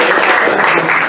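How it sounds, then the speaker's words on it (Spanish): An audience at a literary reading bursts into loud, dense applause, a brief continuous wash of clapping filling the moment with no voice above it. "démosle un aplauso"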